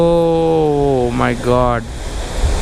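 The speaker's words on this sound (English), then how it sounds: "And look at this waterfall." Chitrakote waterfall in Chhattisgarh, a wide horseshoe-shaped monsoon-flooded fall, gives a steady broadband roar throughout, loud and continuous under an excited voice and a rising tonal sound in the foreground.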